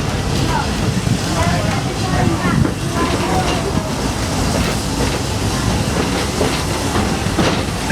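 A Walt Disney World Railroad train rolls along its tracks with a steady, loud rumble, rattle and hiss of cars in motion that runs continuously throughout, with faint voices mixed into the noise.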